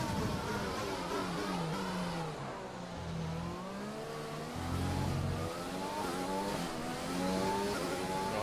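Formula 1 race car engine at full throttle down a straight in the F1 2020 game at the Vietnam circuit, a loud continuous high-revving whine that climbs and dips through gear changes with no talking.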